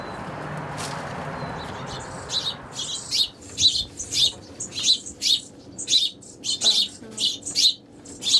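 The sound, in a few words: crows feeding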